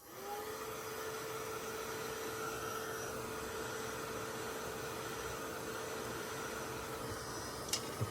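A heat tool dries a paper craft project with a steady, loud, even blowing whir that holds for the whole stretch, with small knocks at the end and no talk.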